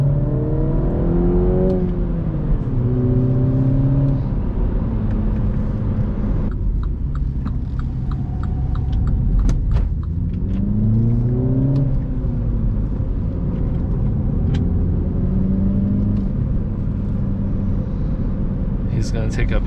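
A MINI Cooper S engine revving and pulling through the gears as it drives off, rising tones repeated with each gearchange over road rumble, heard from inside the car with someone talking over parts.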